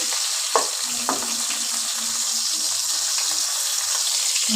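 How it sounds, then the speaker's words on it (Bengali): Lote fish (Bombay duck) frying in a pan, browning on one side before being turned. A constant close sizzle fills the clip, with a couple of sharp spatula taps early on and no talk. "আমি উল্টে পাল্টে ভেজে নেব দেখো এক পিঠ আগে ভাজা হোক"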